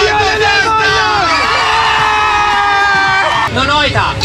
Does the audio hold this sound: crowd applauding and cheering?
yes